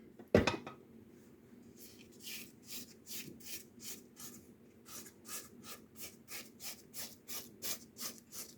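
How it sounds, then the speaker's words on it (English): A spatula scrapes around the sides of a mixing bowl of pound cake batter, a close, steady series of rhythmic rasping strokes after one sharp knock at the start. "Now let me scrape down the sides one more time."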